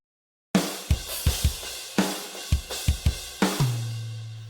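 An alternative-rock drum kit with a very big room sound hits a steady pattern of kick and snare, each hit ringing out into a washy ambient tail. Cymbal wash fills the space around the hits, and the groove runs loud and alone.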